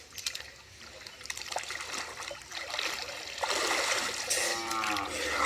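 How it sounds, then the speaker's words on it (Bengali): Water in a village pond splashes and trickles as two brothers duck under while bathing, a continuous close wash of sloshing and dripping that swells louder toward the end. "চলেন দুই ভাই একসাথে ডুব দিই"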